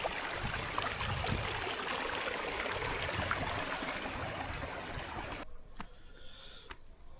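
A flowing stream in Madagascar babbles as a steady, soft rush of water for several seconds, then cuts abruptly to near quiet with a few faint clicks.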